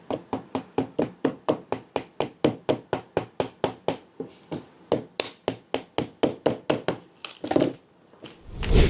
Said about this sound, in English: Let's try it with a chisel.